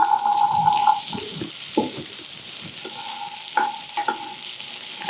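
Boiled chickpea sundal with curry leaves gets stirred in a pan, producing a soft sizzle broken by intermittent scraping and clinks from the spoon, close up with no talking.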